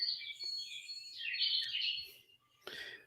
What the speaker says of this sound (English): I love the bird sounds.